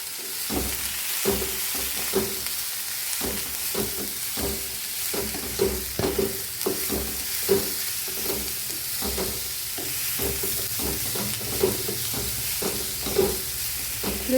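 Snake gourd stir-fries in a pan for a thoran with a steady hiss and sizzle, punctuated by frequent rhythmic scrapes and taps of a spoon stirring close by.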